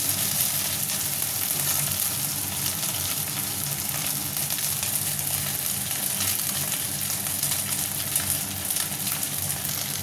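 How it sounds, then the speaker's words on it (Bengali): Small mola fish fry in hot oil, giving a dense, even, continuous sizzle that stays loud and close from start to finish. "মাছটা কিন্তু খুব সুন্দর করে ভেজে নিতে হবে"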